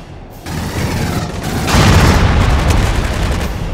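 Gunfire and explosions from the Aliens: Colonial Marines video game, a dense loud barrage of rapid shots and booms that swells in the second half, with no talk over it.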